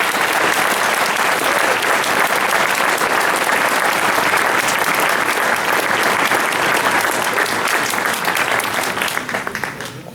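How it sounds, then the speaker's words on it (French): Audience applause at a municipal New Year's greetings ceremony in Pouzauges, a loud, sustained wave of clapping from a large crowd that fades out at the end. "je vous demande maintenant qu'ils sont tous là, de les applaudir pour tout leur travail"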